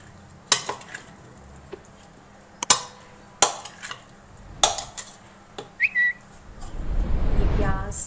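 Spiced potato chaat being mixed in a bowl, with sharp spoon-against-bowl clinks and taps scattered through, a brief whistle-like tone, then a low rustling churn of stirring building toward the end; no talk.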